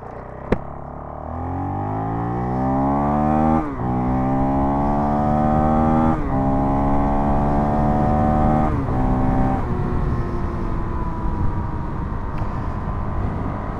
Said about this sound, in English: 0 to 65, 0 to about 100 kilometer an hour acceleration. That was full throttle.